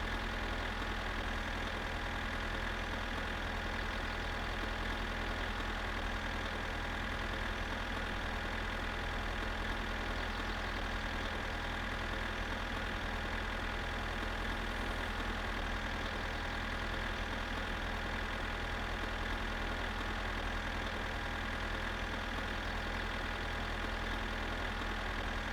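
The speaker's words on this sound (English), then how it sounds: "Taking the tractor down the highway. Slowly." A tractor engine in the video game My Summer Car drones steadily as it travels slowly down a highway, a constant low mechanical hum with tonal harmonics and no variation in pace.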